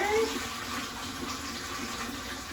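Water rushes steadily from a newly installed Genie bidet valve, a continuous hissing spray that stays even and fairly loud for the whole stretch, with no talking over it.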